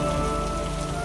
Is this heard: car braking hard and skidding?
no